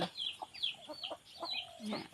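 Quiet, rapid clucking and high chirps come from a flock of chickens with squabbling chicks, short calls tumbling over one another at a soft, steady level without pause.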